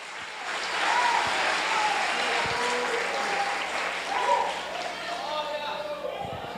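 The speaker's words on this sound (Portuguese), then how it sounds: "Aplaude a Jesus de Nazaré." A church congregation at a Portuguese-language weekday service bursts into sustained applause, swelling quickly and holding at a dense, even level before gradually thinning.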